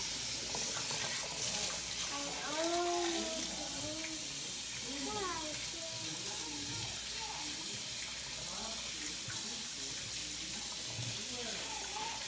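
Tap water runs steadily into a sink as a child rinses a bowl, a continuous splashing stream with voices talking over it.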